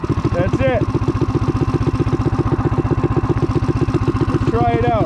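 A custom vintage mini bike engine idles close by, a loud, steady rapid thumping pulse throughout, with brief squeaky chirps near the start and end.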